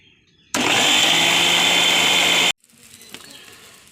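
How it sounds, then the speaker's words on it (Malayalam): Mixer grinder blending chutney for dosa: a loud, dense motor whine that starts abruptly, runs steadily for about two seconds, then cuts off sharply, leaving quiet kitchen background. "ദോശയിലേക്കുള്ള ചട്നി അടിച്ചെടുക്കാം"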